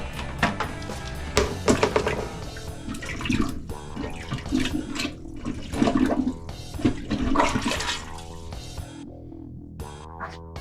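A household toilet flushing close by, drained of its water before being pulled up for replacement: a loud rushing surge that swirls and gurgles for several seconds, then thins to a trickle as the tank refills.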